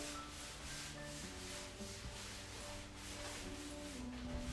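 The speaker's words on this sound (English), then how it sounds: "So I want to just hose this down right here with some Pine Sol, and I'm wiping it off the table." Pine Sol cleaner wiped across a vacation rental kitchen table with a cloth, a steady, continuous rubbing swish at moderate volume over faint background hum, with no talking.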